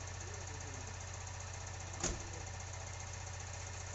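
Hathi model roster machine engine running at an automobile workshop, a steady loud rumbling idle with rhythmic knocking throughout and one brief louder bump midway.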